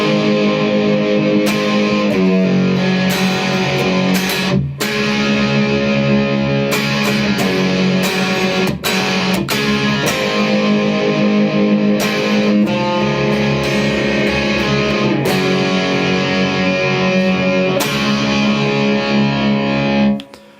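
Distorted electric guitar playing the chorus of a song, loud, driving strummed chords with brief choked gaps between phrases, continuous for about twenty seconds with no voice.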